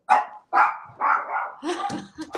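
An excited dog barks indoors in a home, four or five sharp, loud, close barks in quick succession, with a yip and some whimpering at the end.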